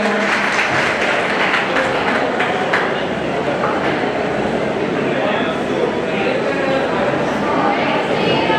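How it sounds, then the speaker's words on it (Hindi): An alumni meet audience claps in loud, dense, sustained applause that fills the room at a steady level from start to finish, with no pauses. "सभी लोग जोरदार तालियों से हमारे भागीदारों का"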